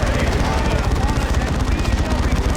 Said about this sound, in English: Hope you can hear me over the sound of this incredibly loud auto cannon.